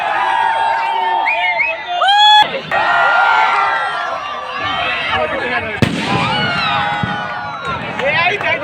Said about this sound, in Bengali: তখন হঠাৎ দেখি একটা বাজির শব্দ